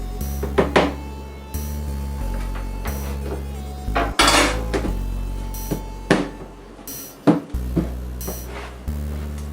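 Flour is scooped into a little bowl while making sugar cookies, with scattered clinks, knocks and clatters of a utensil and dish on a kitchen counter, some sharp and close, separated by short pauses.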